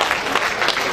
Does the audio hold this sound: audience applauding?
yes